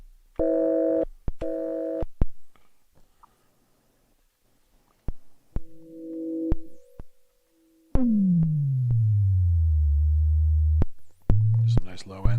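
A mini synthesizer plays a few short electronic beeps and held tones, then a deep tone slides downward and settles into a sustained low drone with a brighter note entering at the end. No one talks.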